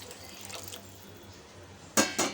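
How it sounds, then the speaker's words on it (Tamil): Six tumblers of water are poured into a pot of raw rice and bottle gourd for a tiffin dish. Faint kitchen sounds lead into two quick, loud splashing pours close by. "ஆறு டம்ளர் தண்ணி எடுத்து வச்சுருக்கோம் அதை வந்து உள்ளே ஆட் பண்ணிடலாம்"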